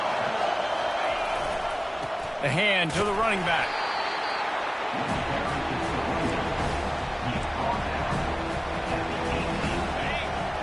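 Crowd cheering at a Tennessee Vols college football stadium, a constant roaring wash of noise under a play-by-play commentator's voice, with a whistle-like call rising briefly early on.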